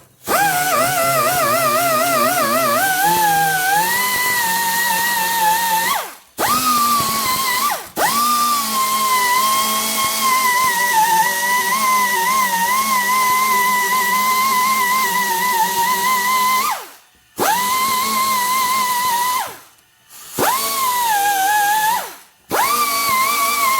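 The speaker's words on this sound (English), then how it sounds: "then I'm gonna do a little bit of DA with 80 grit here" A DA sander with 80 grit works a welded sheet metal patch in a loud, high whine, running in long stretches broken by a few abrupt stops and restarts.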